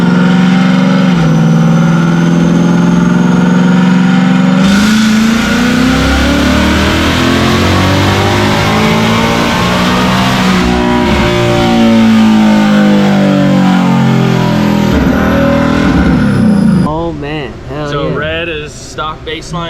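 A stock Ford Mustang S650 GT engine climbs in a long, loud rev, its pitch sweeping upward and then easing, before cutting to choppier mechanical noise near the end.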